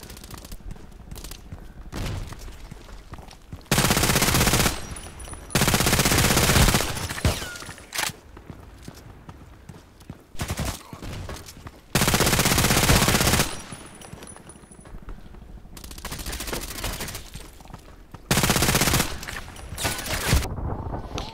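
H&K MP7 submachine gun firing in the shooter game Contract Wars: loud, rapid automatic bursts, several lasting about a second or more, separated by quieter gaps with softer shots and background game noise.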